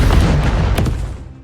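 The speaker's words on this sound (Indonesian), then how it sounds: "Ledakan itu membuat Johnny terlempar ke air" A loud explosion in an action film scene hits with a sharp boom and rumbling blast, then decays over about a second and a half with no other sound over it.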